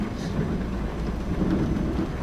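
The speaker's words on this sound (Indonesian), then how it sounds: "Hujan lebat dari kemarin tidak terang-terang teman-teman." Heavy rain in Bus Simulator Indonesia, a steady dense hiss of downpour with low rumbling underneath, continuous and alone without talk.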